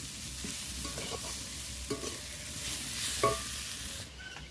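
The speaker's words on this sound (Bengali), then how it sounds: "হাফ মালা নারকেল আর দেড়শো মতো চিনি নাড়তে নাড়তে এটা একদম জল হয়ে যাবে" Grated coconut and sugar being stirred in a pan for sandesh, a soft continuous sizzle with occasional spoon scrapes against the metal, close and unaccompanied by speech.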